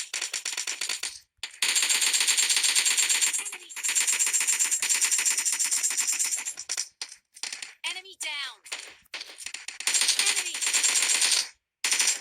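Rapid automatic gunfire from PUBG Mobile Lite, in Old Basin, comes in loud sustained bursts with brief gaps and crackling shell-like rattles, while someone talks over the shooting.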